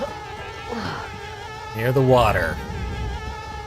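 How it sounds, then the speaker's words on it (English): Buzzing swarm of bees in the video game Conker's Bad Fur Day, a steady insect drone with rising and falling whines that swells louder midway, heard under a voice speaking. "I don't care for this particular swarm of bees."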